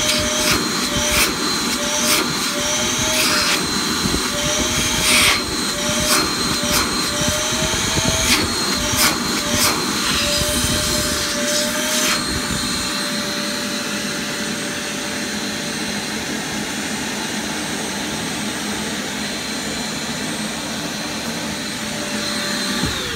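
A Hart 6 gallon 5hp wet dry vacuum runs steadily, a loud continuous whooshing hiss with a whining motor tone and a few knocks early on, no talking.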